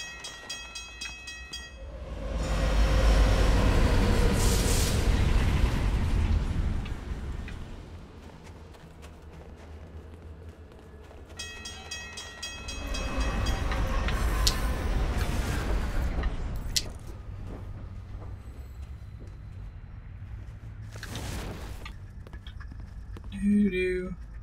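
Rumbling train noise in the video game Alpha Protocol swells in two loud passes of rolling rail clatter with a horn-like tone, fading between, while a voice talks over the game sound.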